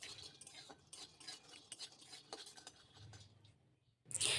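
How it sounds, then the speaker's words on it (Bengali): Dried pea-lentil dumplings (bori) stirred in a dry pan, giving soft repeated scraping and light clinks of a utensil against the metal, close and steady, ending in a brief louder hiss. "এখন আমি মটর ডালের বড়িগুলো কড়ার মধ্যে দিয়ে একটু আগে শুকনো খোলায় নাড়াচাড়া করে নিচ্ছি।"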